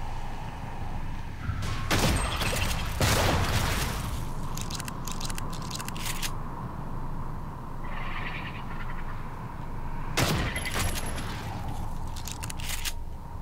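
Shotgun fire in the video game Prey, a few heavy, widely spaced blasts with a sharp onset, close and loud, over a low ambient drone with clattering effects between them.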